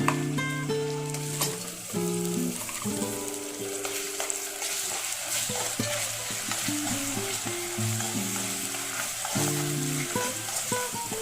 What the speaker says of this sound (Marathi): आणि व्यवस्थित परतवून घेऊया मसाल्याला